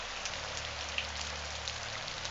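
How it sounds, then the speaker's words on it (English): Steady rain thrums on a roof, a dense, even patter close overhead with occasional slightly louder drops and no voices. "The rain, however, is near,"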